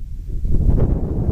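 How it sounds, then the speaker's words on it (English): Strong gusts buffet the microphone on Mt. Aso in Japan, a close, steady low roar of wind rumble that swells slightly and carries on for the whole moment with no voices. "Super strong wind here though."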